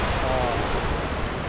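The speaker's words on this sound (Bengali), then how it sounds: "বিশাল ঢেউ।" Big sea waves roll onto an island beach in a continuous loud roar of surf mixed with wind buffeting the microphone, with a boat nearby.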